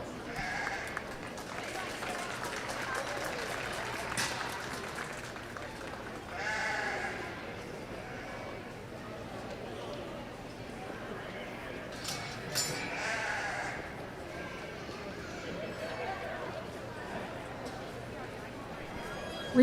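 Hair sheep lambs bleat intermittently at a youth livestock show ring, scattered calls rising over a busy indoor crowd murmur while an announcer talks through it.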